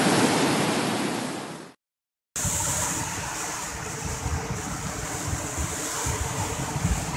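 Flooded Ciliwung river near Katulampa, a loud, steady broadband roar of rushing water with a brief dropout early on, then continuous turbulent noise.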